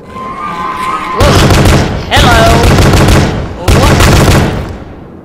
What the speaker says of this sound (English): Oh, it's a bolt gun I've got.